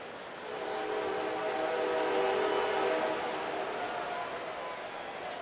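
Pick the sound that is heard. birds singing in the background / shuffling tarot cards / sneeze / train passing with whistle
train passing with whistle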